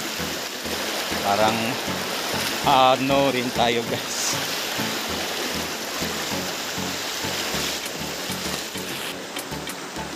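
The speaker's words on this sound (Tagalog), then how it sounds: "malakas yung current ng tubig" The strong current of the Languyon River in Nabas, Aklan, rushes in a constant loud flow, while people talk briefly over the water.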